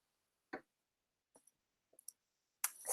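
A computer mouse clicking in a quiet room, a few faint isolated clicks spaced irregularly, followed by a louder rustling noise.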